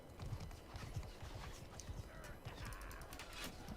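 Horse hooves clip-clop steadily through a battle in Mount & Blade: Bannerlord, with a neigh near the start, all set against a dense din of fighting and shouting.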